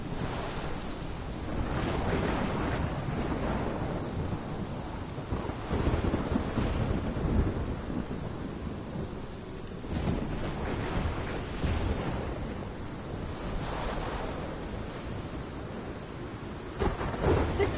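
Heavy rain pours in a thunderstorm in Life is Strange, a continuous dense hiss broken by several deep rolling thunderclaps that rise and fade across the stretch.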